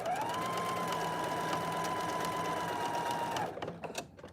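A sewing machine with an automatic threader runs steadily while stitching a shift dress, a continuous close whirring hum lasting about three and a half seconds before stopping, followed by a few faint handling sounds.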